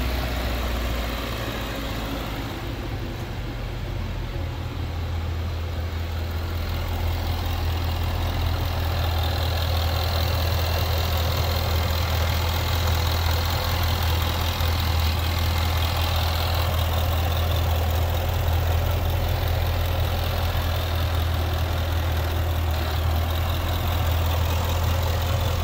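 A 2012 Jaguar XKR Coupe with the Dynamic Pack idles steadily while warming up, giving a continuous low, even engine drone at constant volume with no revving and no talking throughout.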